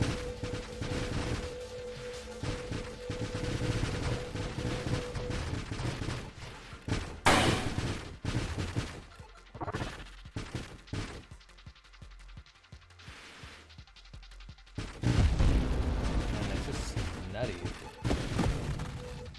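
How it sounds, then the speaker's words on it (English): Armor-piercing missiles striking enemies in the space shooter Nova Drift, heard as dense bursts of booming impacts and rapid-fire blasts under someone talking steadily, with a few louder surges and brief quieter gaps. "It's just the missile hits them and then they're armor-piercing missiles."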